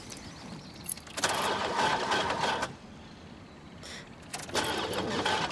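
An old car over twenty years old struggling to start on a country road, the starter cranking in two grinding bursts separated by a quieter pause, close and moderately loud.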